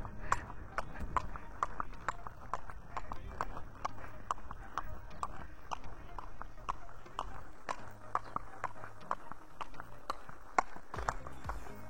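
Steady clip-clop of a horse's hooves on a hard surface, an even walking rhythm close by, with faint voices in the background.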